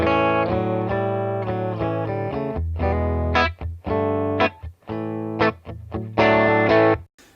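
An electric guitar plays dry, choppy chords and short riffs through a Fender amp with the spring reverb off, with abrupt stops and no lingering echo.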